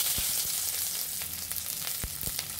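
Chopped onion and garlic sizzle in hot oil for a pumpkin seed mash, a steady close crackle with a few sharper pops and stirring scrapes.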